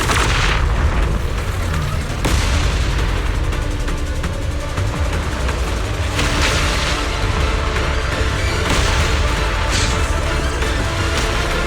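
Explosions rumble without pause during a battle in the action game Zenless Zone Zero, loud, dense booms and blasts layered with heavy crashing noise, each burst running into the next with no clear gaps between them.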